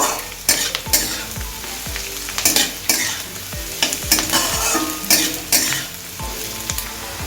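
Grated ginger stirred and fried with softened onion in a pan, a steady close sizzle broken by regular scrapes of a spoon against the pan roughly every half second, with no talk.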